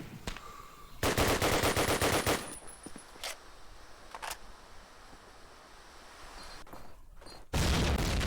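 Rapid automatic gunfire from a competitive video game match comes in loud, sustained bursts, separated by single sharp shots and a blast, with bursts returning near the end.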